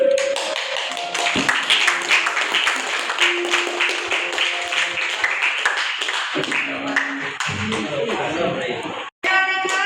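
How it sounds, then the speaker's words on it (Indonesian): A group claps together at the end of a classroom mindfulness session, steady, dense applause lasting several seconds before cutting off, with a voice speaking over it. "Kasih tepuk tangan untuk kita semua."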